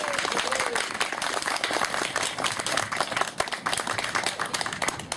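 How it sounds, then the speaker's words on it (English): Dense applause fills the room at a Cindy Hill for Governor campaign event in Casper, a continuous crowd of clapping hands with some cheering mixed in, loud and sustained throughout. "So please give them a round of applause."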